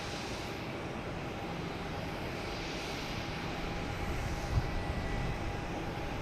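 A Spirit Airlines jet pushes back at Boston Logan, its engines a steady low rumble and hum at moderate distance, continuous and even throughout.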